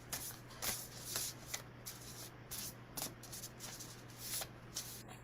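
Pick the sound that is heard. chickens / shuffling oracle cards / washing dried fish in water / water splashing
shuffling oracle cards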